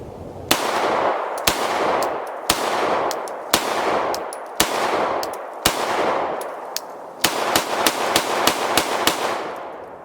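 Shots from an SAR 7/24 alloy-frame pistol, about a dozen loud, sharp reports at a steady pace, each followed by a ringing echo that fills the gaps.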